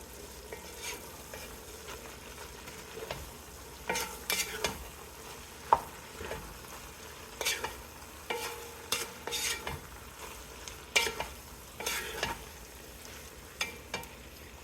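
A pot of chicken and sausage gumbo simmers and sizzles softly while a spoon stirs it now and then, producing scattered scrapes and clinks over a faint low bubbling.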